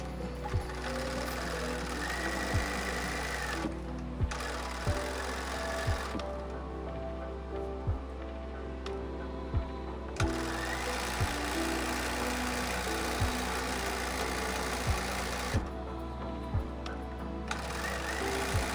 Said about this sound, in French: je vais coudre à la machine la partie du biais qui est épinglée à l'encolure